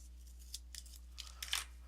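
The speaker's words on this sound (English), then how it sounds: "I'm just going to cut a square" Scissors snip a small square from paper for a kids' ornament, giving a few quiet, crisp cuts near the end, close and faint over a low steady hum.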